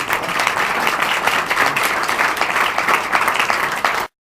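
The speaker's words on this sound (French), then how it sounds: "on peut vous applaudir encore" Audience applause fills an evening youth political gathering, steady dense clapping from a crowd at close range, continuous and loud, then cutting off abruptly.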